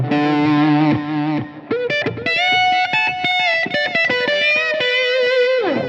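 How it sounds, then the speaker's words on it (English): Distorted electric guitar through a Line 6 Helix, playing sustained chords and melodic lines, soaked in heavy reverb and delay that smear the notes together. "It sounds like a lot of reverb and delay."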